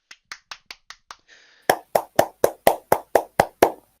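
A handful of sharp hand claps, six quick light ones then a brief rustle, followed by ten louder, evenly spaced claps from a gamer's indoor setup, close and alone with no talk.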